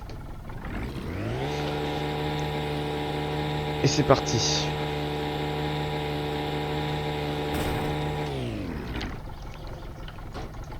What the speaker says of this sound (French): On relance le moteur.